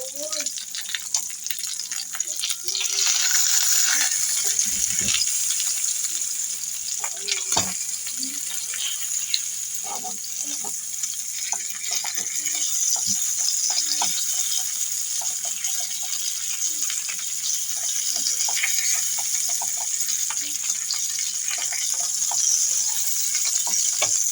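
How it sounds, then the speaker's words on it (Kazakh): Duck legs fry slowly in fat in a pan, giving a steady, close hiss that runs the whole time with occasional clinks and small pops. "Үйрегімізді үстіп майда қуырып аламыз жайлап."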